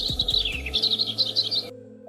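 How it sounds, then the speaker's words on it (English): A small bird sings a quick series of high, bright chirps and trills, close and clear, cutting off abruptly at the end. "Imagine that you love this video of the bird singing"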